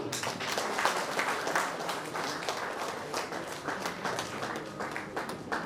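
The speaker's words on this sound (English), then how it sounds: "Please keep clapping." Sustained clapping from an audience at an award ceremony, a dense and steady wash of many hands at moderate loudness with no break, while a presenter's voice is heard lightly over it.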